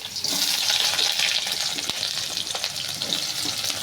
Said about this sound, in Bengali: এবার এই কড়াই তেলটা গরম হয়ে গেছে